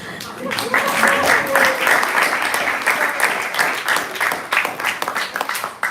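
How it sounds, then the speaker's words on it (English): Audience applause rises for a championship winner, a dense wash of clapping that stays strong across the whole stretch, with voices and cheers mixed in and a few sharper individual claps near the end. "Can you get a round of applause?"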